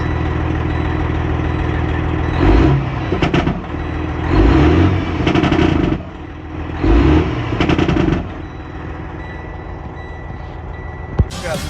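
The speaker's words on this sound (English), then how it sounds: "Engine brake on." A loud 2012 Freightliner Cascadia truck with a Detroit Series 60 engine rumbling close by, with repeated bursts of heavy, rapid staccato engine braking rising over the steady idle.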